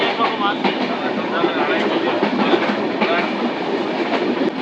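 Inside a moving passenger train on a morning run, a loud, steady rumble with rhythmic clickety-clack fills the carriage, with voices faintly beneath it.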